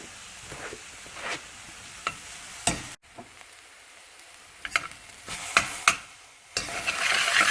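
Onions and fresh garlic frying in a pan for dal, a soft sizzle broken by scattered spoon scrapes and stirring clicks, with a brief silent gap midway and the sizzle swelling louder near the end.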